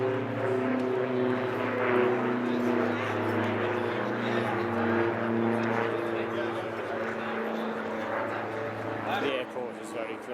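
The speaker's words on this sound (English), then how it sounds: "It's great for plane watching as well." A propeller airplane flies near Innsbruck airport in Austria, its steady droning engine hum holding loud and continuous for about ten seconds before easing slightly near the end.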